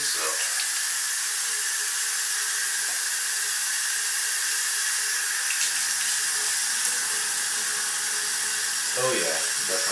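Steady running water from a faucet hisses continuously while hair dye is rinsed, a constant bright rush under occasional faint speech, with a few clicks and shifts near the end.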